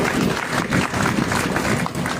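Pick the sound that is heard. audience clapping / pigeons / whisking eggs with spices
audience clapping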